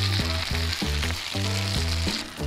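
Food sizzles loudly in a pan over high heat with oyster sauce, a continuous hiss broken by rhythmic stirring scrapes, close and with no voices.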